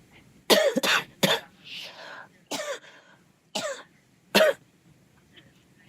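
A person coughs repeatedly in short harsh bursts, about seven sharp coughs spaced irregularly with brief throat-clearing sounds between them, close and fairly loud against a quiet background.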